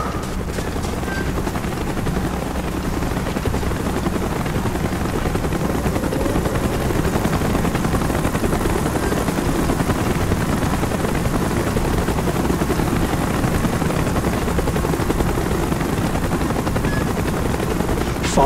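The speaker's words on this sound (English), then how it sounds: "Chopper's inbound. Move it!" Helicopter rotors in the video game Call of Duty: Black Ops, a steady, loud, continuous thumping drone lasting throughout, with what may be distant gunfire mixed faintly underneath.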